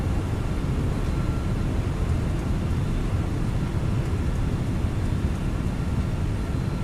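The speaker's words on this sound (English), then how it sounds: "Reverser deployed." An MD-11 in Microsoft Flight Simulator 2020 roars steadily as its thrust reversers run after landing, a loud, even, broadband rumble with no voices over it.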